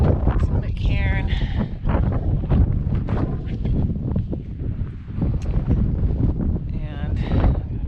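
Wind gusts across the rocky summit of Mount Jackson, buffeting the microphone in a rough, continuous roar while a hiker keeps talking over it.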